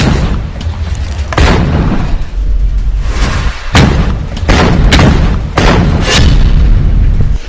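Explosions in war footage of a Hamas attack: loud, heavy booms strike one after another with rumbling between them, filling the whole stretch with no speech.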